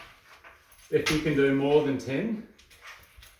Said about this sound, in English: Excuse the breakdancing dog.